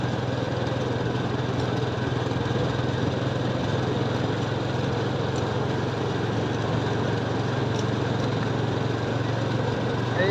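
A motorbike engine drones steadily on a deserted forest road at night, a constant close hum with no breaks and no voices.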